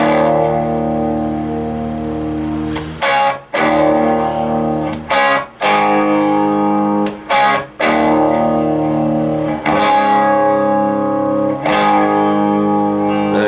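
Heavily distorted electric guitar riff with sustained power chords, broken by a few short sharp gaps where the chords are cut and restruck, loud throughout.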